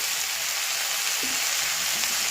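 Vegetables made from pea pods fry with salt, turmeric, chili, cumin and coriander powder, giving a dense, even sizzle that hisses steadily throughout, close and fairly loud, with only a faint utensil touch partway and no talking.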